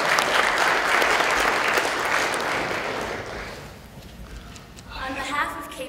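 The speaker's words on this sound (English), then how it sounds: "Give them a round of applause" A conference audience applauds KPN staff on stage at a hacker security event, sustained clapping fading after about three seconds, then a voice begins speaking.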